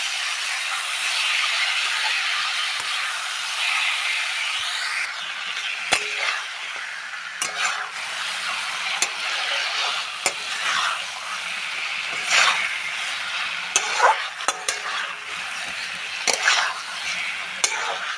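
Fish frying in a pan sends up a continuous close hissing sizzle, broken by repeated sharp spattering pops and clicks, with no talk.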